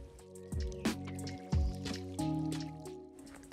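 Melted shea butter being poured, with soft liquid drips and squishy splashes arriving in a few distinct pulses, close and clear with no talking.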